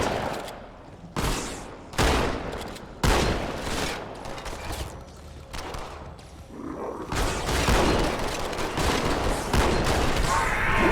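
Rapid bursts of gunfire and explosions in Halo 2 Anniversary combat against the Flood, loud volleys repeating in close succession with sustained firing toward the end.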